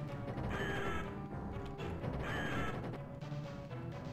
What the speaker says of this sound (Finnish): No kuulostaa jotain korppikotkilta kun noi kuolee